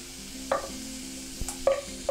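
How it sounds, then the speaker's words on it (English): A pan stir-fry of sliced ginger for teriyaki beef is stirred, with a steady close sizzle and a few sharp scrapes and knocks of the utensil against the pan. "Just give it a stir. Make sure everything's getting a little bit of a go on the heat."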